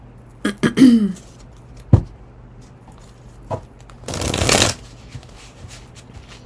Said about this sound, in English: Now I am going to pull from this deck now.